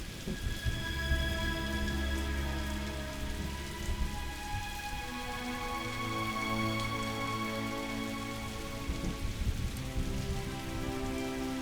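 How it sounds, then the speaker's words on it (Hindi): Steady rain pours down continuously, a dense hiss of drops on surfaces with no voices. "ये बारिश को भी आज ही आना था,"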